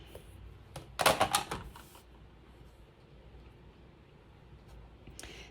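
Scissors or a cutter slicing through a sewing pattern piece, a short cluster of crisp snipping clicks near the start, then quiet with one faint click near the end.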